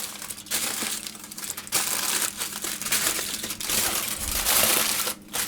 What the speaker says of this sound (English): I'm going to fold the foil up like that.